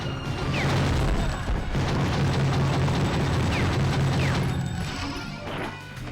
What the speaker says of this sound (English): Then we got the rocket launcher there.